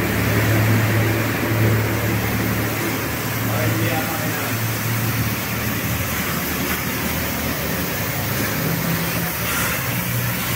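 Air blower at a coin-operated car wash, a steady whooshing roar that holds throughout at close range, with people talking over it.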